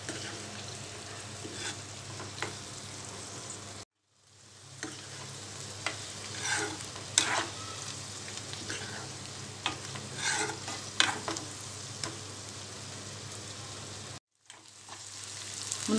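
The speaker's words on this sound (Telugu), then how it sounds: "మునక్కాడ ముక్కలు వేసిన తర్వాత సిమ్లో బాగా మగ్గనివ్వాలి." Drumstick vegetable pieces cook on a low flame in a prawn curry, a steady close sizzle with occasional stirring scrapes and clinks running throughout, broken by two brief silent gaps.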